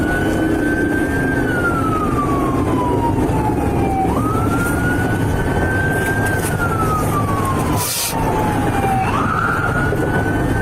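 Private EMS ambulance siren wails close and loud, its tone sweeping slowly up and down in long repeating cycles over road noise as the vehicle rolls out from a scene.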